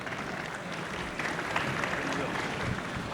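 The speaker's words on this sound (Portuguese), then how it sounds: "Uma salva de palmas." Audience applause at a banking technology conference as an innovation executive is introduced, a steady moderate wash of clapping lasting the whole moment and swelling slightly toward the end, with some voices mixed in.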